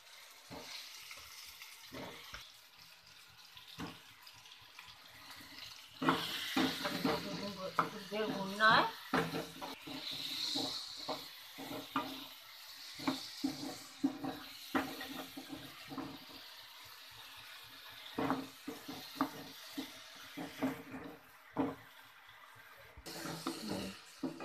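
Dum aloo potatoes fry in masala in a pan, a soft sizzle broken by frequent clinks and scrapes of stirring, with water running and a faint voice at times.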